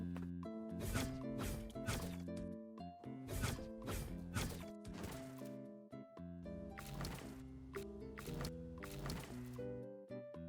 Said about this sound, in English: So I made this katana and gave it a totally original animation. And this time, I actually gave it sound effects.